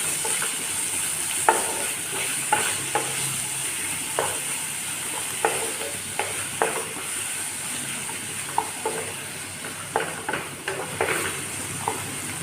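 Onion, ginger and garlic paste fries in a pan with a steady sizzle, broken by regular spatula scrapes and knocks as it is stirred, close up and without talk.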